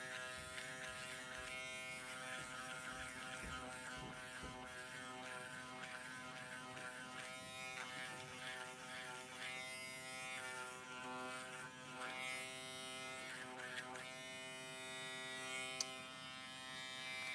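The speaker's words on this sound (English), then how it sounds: "this is a foil shaver" Electric foil shaver buzzing steadily on arm hair, a close, sustained hum with small shifts in pitch and texture as it moves over the skin.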